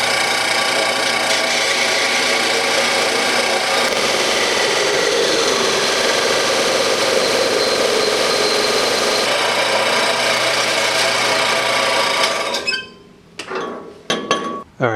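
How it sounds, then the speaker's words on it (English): A bandsaw grinds steadily through a steel exhaust pipe on an aftermarket dual exhaust, loud and continuous for about twelve seconds before the blade breaks through and the noise drops to scattered clanks. "Got the bandsaw all set up. We'll just turn around and let her eat."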